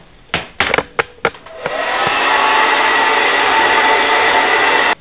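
A heat gun warms the edge of granite-pattern adhesive film on a corner, its steady airy blower roar starting after a few sharp clicks and handling knocks and holding loud and even to the end.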